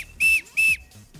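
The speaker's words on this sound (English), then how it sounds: "You blow in his tail here and sound comes out the top" A plastic SilverHawks Mayday toy bird whistle, blown through its tail, gives two loud, shrill, steady blasts of about a fifth of a second each, with a short gap between them. The whistling is heard alone.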